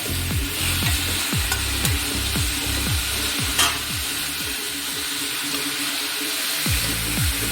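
Six round-sliced tomatoes with onions frying in a pan, giving a steady, even sizzle throughout with repeated light scraping strokes of stirring.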